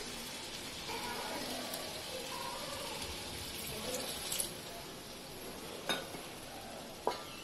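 A little water goes into a pan of raw banana curry, raising a steady, close hiss of sizzling with a few faint clinks of a utensil against the pan near the end.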